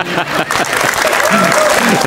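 Audience applause at a talk-show style debate, brief clapping mixed with crowd voices and talking that runs underneath throughout.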